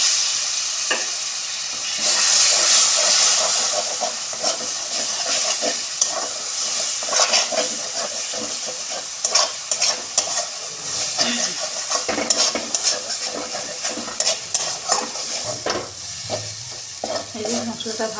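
Spice paste with dried fish sizzling in a pan while being stirred, a steady frying hiss with scraping stir strokes and occasional utensil clinks, fairly close and continuous.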